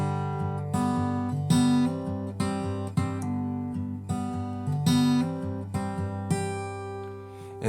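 Acoustic guitar strumming a song's pattern: a mix of strums and picked notes with sustained chords, moderately loud and close, played alone without talk.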